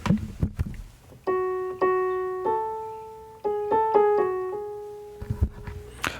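A slow, somber sequence of plucked or struck notes, each ringing out and decaying, played alone with faint knocks before and after.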